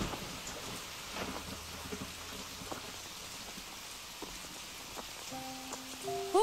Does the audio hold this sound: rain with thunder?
yes